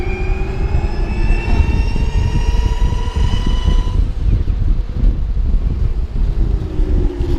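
An Outrider Horizon 2 electric bike motor spins at higher RPM, giving a loud, rising whine with wind rushing past the microphone throughout.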